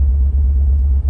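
A 1972 Fiat 124 Spider's engine drones while driving, a steady, loud low rumble with a brief dip or two, heard from close by with no voices.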